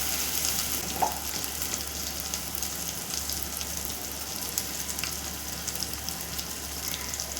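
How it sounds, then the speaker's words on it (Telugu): Banana kofta curry paste fries in oil in a pan, a steady dense sizzle and crackle heard up close, with occasional stirring and no voices. "బాగా ఆయిల్లోనే ఫ్రై చేసుకోవాలి"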